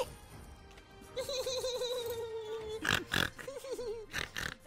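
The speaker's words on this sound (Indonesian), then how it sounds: "Siapa sih ada suara babi" Pig-like oinks and snorts during a Mobile Legends game session, a sustained tonal grunt followed by several short bursts, fairly loud against background noise.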